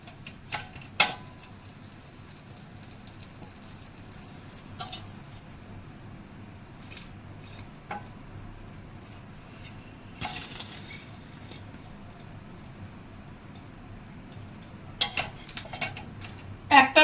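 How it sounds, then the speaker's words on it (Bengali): Bread frying in a pan at home, a soft sizzle underneath occasional sharp metallic clinks and scrapes of a spatula as the slices are turned, close and fairly quiet. "আরেকটা ব্রেড ফ্রাই করে নেব"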